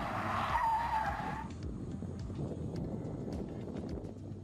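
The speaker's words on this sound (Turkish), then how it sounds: "Otomobil çok çok üst limitlerde 3 sedana göre daha geç kayma eğilimlerine başlıyor" A BMW 420d coupe's tyres skid at the limit of grip, a loud, sustained screech over steady engine and road roar that fades after the first second and a half, leaving the rumbling drive.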